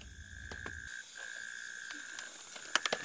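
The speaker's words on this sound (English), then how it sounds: "Here it is, a male Taipei green tree frog." A male Taipei green tree frog calls at night from beneath an old tarpaulin on a hillside trail at Maokong, giving a few sharp, close clicking notes near the end over a steady insect-like hum.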